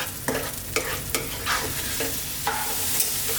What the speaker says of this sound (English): And now we're going to stir this around, probably for about 3 to 4 minutes